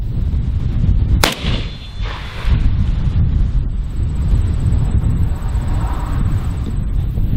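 A single loud, sharp rifle shot from a DPMS G2 Hunter firing 147 grain ammunition cracks near the start, then fades into steady outdoor wind rumble and a faint high whine.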